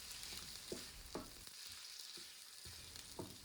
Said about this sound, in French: Lorsque j'ai rajouté l'ail, oignon, je vais mélanger